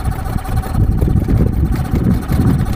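An old vehicle's engine idles close by, a loud, steady low rumble with fast even pulsing, alone.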